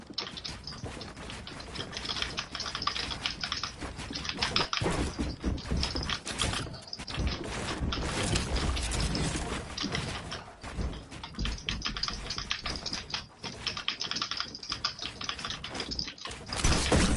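Rapid keyboard typing during a Fortnite live stream, dense clattering keystrokes running steadily throughout at close range, mixed with game sounds and no speech.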